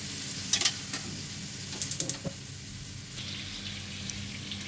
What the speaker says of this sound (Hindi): पाँच से सात मिनट इसे फ्राई करेंगे। एहतियात से इसे फ्राई कर लें।